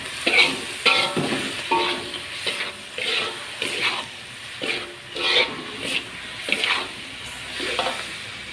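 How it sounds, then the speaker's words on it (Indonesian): A spoon scrapes and stirs tempeh and tofu in a pan with sweet soy sauce, in repeated close strokes over a soft sizzle. "di sini saya memakai kecap manis kita aduk pastikan semua bumbu merata"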